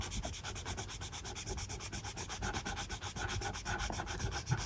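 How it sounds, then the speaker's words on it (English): An eraser rubs pencil off paper in quick, steady back-and-forth strokes, close and soft, with a continuous scratchy rhythm and no voices. "So now I'll just erase the pencil."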